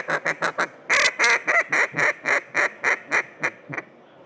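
A Nordik Mallard game call, blown by hand, imitates mallard duck quacks: a close, loud series of about fifteen evenly spaced nasal quacks, a pair of longer drawn calls early on, trailing off into quiet.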